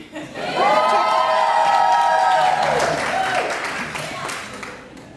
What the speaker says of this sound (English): You can keep cheering.